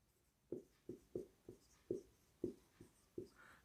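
A pen or marker writing a math formula, giving eight faint, separate taps and scratches at an uneven pace, soft and close in a quiet room.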